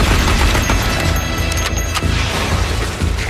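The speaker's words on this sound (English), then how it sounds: "When SWAT teams need a weapon with devastating firepower, they turn to this mini machine gun." An FN Herstal P90 compact submachine gun fires rapid automatic bursts, loud and close, with dense overlapping reports and booming impacts throughout, no speech.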